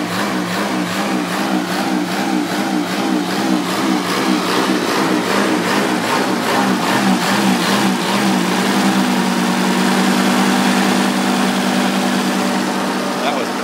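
A 1965 Kohler electric plant generator engine cold starting without its automatic choke hooked up: rapid, rhythmic firing pulses settle into a steadier running hum partway through, with a person talking over it.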